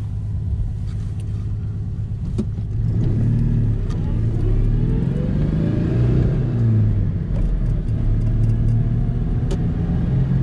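A Citroën 2CV 6 engine drones steadily while the car is driven, with a loud, continuous low rumble that swells slightly as it revs, heard from inside the car with no talking.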